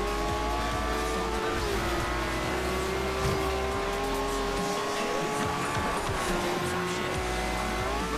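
A Lamborghini, such as an Aventador or Gallardo, races in the video game Forza Horizon 2, its engine droning loudly and steadily throughout with shifting pitch and hints of tire squeal.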